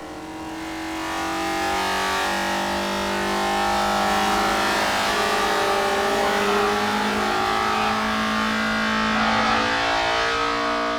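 Vauxhall Vectra BTCC touring race car engine from 1996 revving hard and holding high revs, a loud, steady, buzzing roar with slight pitch swells, sustained alone throughout.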